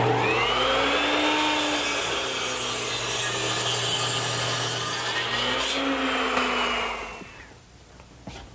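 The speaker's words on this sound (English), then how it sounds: "to make the cut at the ridge, I've turned my miter saw to 45 degrees and installed a stop block for the correct length" A miter saw set to 45 degrees cuts through a wooden rafter, a loud sustained motor whine with rasping blade noise close by, spinning down after about seven seconds.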